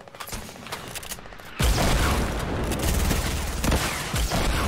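A rocket explodes in a shooter video game: quiet rattling gunfire, then an abrupt loud blast that gives way to sustained roaring noise and further scattered shots.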